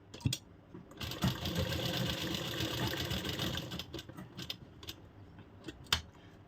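An electric sewing machine runs in a steady continuous stitching burst while a straight kurti is sewn, close and fairly loud, with short start-stop whirs and small clicks before and after.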